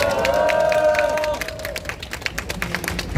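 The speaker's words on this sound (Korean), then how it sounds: "다시 한번 큰 박수 부탁드리겠습니다" Crowd applause at an outdoor political rally, scattered and uneven clapping heard under sustained tones and the tail of a voice, which thins into separate claps before a louder burst at the end.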